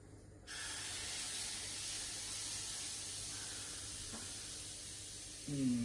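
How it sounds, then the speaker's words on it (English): A steady broadband hiss of an aerosol spray, a quick spray while cooking chocolate protein pancakes, starts abruptly and runs for about five seconds, fairly close, then a brief clatter and hum at the end. "Quick little spray."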